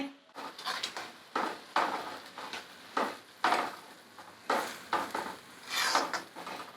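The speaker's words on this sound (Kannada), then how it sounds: "ಬೆಲ್ಲ ಸೋಸ್ಕೊಂಡು ಬಿಸಿ ಇಟ್ಕೊಂಡಿದೆ ಬಾಣಲೆ ಬಾಣಲೆ ಒಳಗಡೆ ಹಾಕ್ತಾಯಿದ್ದೀನಿ" Strained jaggery goes into a hot pan and is stirred while making bele obbattu, with a series of rhythmic scraping, stirring strokes roughly every half second, close and moderately loud.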